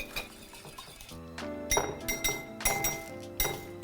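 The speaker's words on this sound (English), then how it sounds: "lastly, we're just gonna whisk up our eggs" Eggs being whisked in a bowl, with clinking strikes against the bowl that start sparse and then settle into a quick, rhythmic run, close and moderately quiet.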